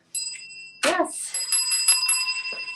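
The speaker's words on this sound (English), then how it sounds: "ringing some bells" Bright bicycle-style bells ring in several quick, clear strikes during a solo bounce workout class, with a brief voice-like burst near the start.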